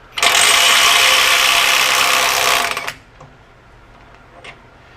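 NEIKO 20V brushless 3/8-inch impact wrench, model 10880A, running in high in loosen mode at 50 foot-pounds: a loud, steady hammering buzz lasting under three seconds, then a few faint clicks as it stops.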